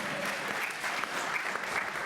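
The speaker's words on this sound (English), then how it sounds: "This is when you're supposed to clap, by the way." Audience applause fills a lecture hall at an academic session, a steady dense clatter of many hands clapping throughout, fairly even in level with no speech over it.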